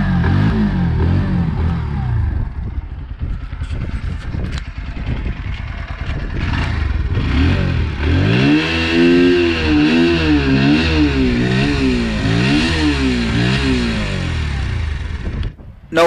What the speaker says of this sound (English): let's hear to the exhaust note